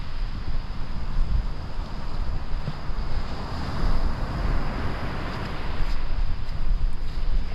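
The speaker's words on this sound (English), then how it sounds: "Yeah, so it's windy" Steady, loud wind roars and buffets the microphone, with surf washing beneath it on the beach at Southbourne, England, and no voices.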